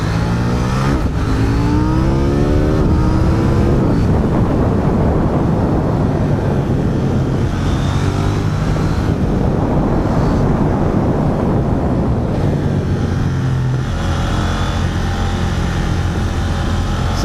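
A KTM 790 Duke motorcycle engine rumbles loud and steady while riding through a tunnel, its roar swelling and echoing off the walls with a few throttle rises along the way.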